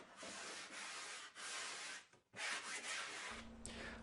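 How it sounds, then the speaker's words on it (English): Steady rasping strokes of a sanding block on a curved wooden tabletop, close and fairly loud, in several long passes with short pauses between them. "smoothed and faired the curve of the templates at the bench using a spoke shave and a sanding"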